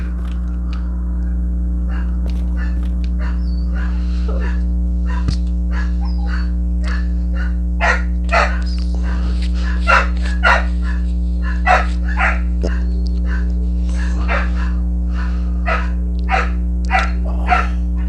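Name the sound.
dogs barking in the background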